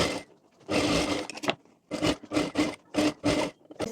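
A sewing machine stitches a kurti in short bursts, one longer run followed by several quick repeated runs separated by brief pauses, close up and fairly quiet with no talking.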